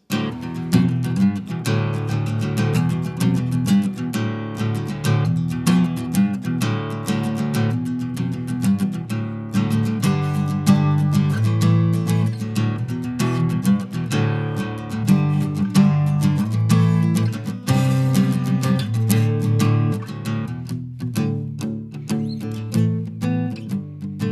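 An electric guitar plays continuously with strummed chords and picked riffs, steady and loud throughout, no voices.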